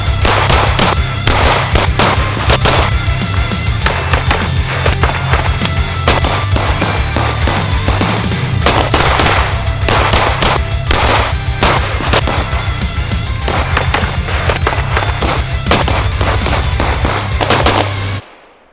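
Rapid gunfire from a CZ P10C handgun, loud and dense bursts of sharp repeated shots continuing for most of the stretch before cutting off abruptly.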